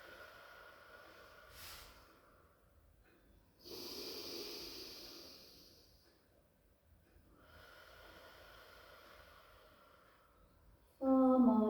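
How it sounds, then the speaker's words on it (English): A person lying in child's pose during a Pilates rehab session takes slow, deep breaths. The few long airy inhales and exhales are close and quiet, with a voice starting up right at the end. "Deep breaths in and out."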